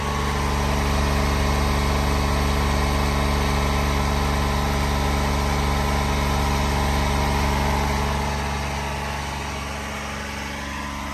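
Honda Acty kei van engine idling high at about 3,000 RPM on a cold start on a 38-degree morning, a loud steady close-up drone that eases down slightly near the end, no talking.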